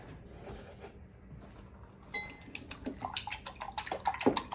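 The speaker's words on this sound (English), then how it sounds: "I'm just scrambling these, whisking them enough to make them nice and fluffy" Eggs whisked with a scrambler in a bowl while breading southern fried venison: a quiet start, then quick, close clinking strokes in an uneven rhythm for a couple of seconds.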